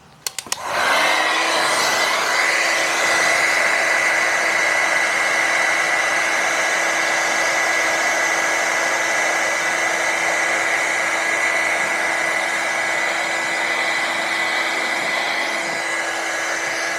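A heat gun starts with a click and then blows a steady, loud whirring hiss while heating a bubble in the wrap on a Tesla Model 3, continuing evenly and close.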